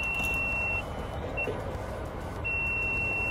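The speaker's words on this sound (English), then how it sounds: "Why is that beeping so much?" A vehicle's steady high warning beep sounds in long tones with a brief pause, over a low engine rumble beside a broken-down truck about to take a trailer.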